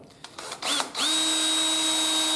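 A 2.5 mm pilot drill boring a hole in a fabricated fender riser bracket for a Honda Africa Twin CRF1000L: a couple of brief starts, then a steady, close, high-pitched drill whine held to the end.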